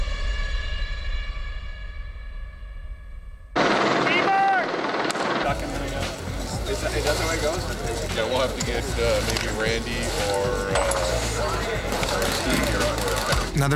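A helicopter flies overhead during filming of the S.W.A.T. movie, first as a steady humming rotor drone, then mixed into a louder, busier wash with people talking over it.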